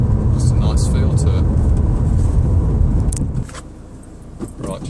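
A 2011 Citroen C4 Grand Picasso 1.6 HDi diesel pulls away, its engine drone loud and steady from the cabin before easing off, with someone talking over it throughout.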